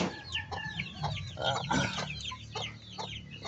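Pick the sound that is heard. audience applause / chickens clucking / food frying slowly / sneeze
chickens clucking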